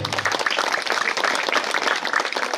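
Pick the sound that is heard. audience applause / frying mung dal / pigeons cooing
audience applause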